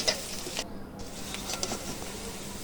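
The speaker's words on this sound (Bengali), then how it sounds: "কিছু পেঁয়াজও এই তেলেই ভেজে নেব।" Onions and chillies sizzle gently in oil, a faint steady crackle with a few soft stirring clicks and no talk.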